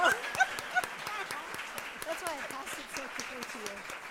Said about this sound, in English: I think these ladies deserve a round of applause